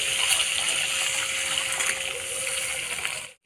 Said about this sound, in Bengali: অল্প হলুদ দিয়ে হালকা করে ডিমটা ভেজে দেবো।